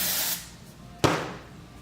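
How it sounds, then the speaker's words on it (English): Moroccanoil hairspray hisses from an aerosol can onto hair, a faint spray fading out, then a sharp, close burst after a short pause. "I'm gonna spray a little bit more."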